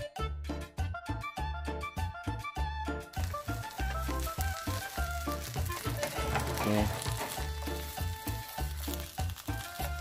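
Small homemade potato hash browns fry in a pan, crackling steadily throughout while music plays over the sizzle.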